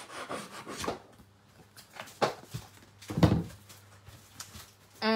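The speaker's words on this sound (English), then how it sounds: "and then rough up the edge of it again with the side of my scissors." The side of a pair of scissors is scraped along a paper edge in several short, soft rasping strokes, quiet and close in an otherwise calm room.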